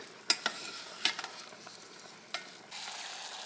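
A spoon stirs leftover brisket through a simmering sauce in a pot, giving a few sharp scrapes and clinks over a low, steady bubbling hiss, close by.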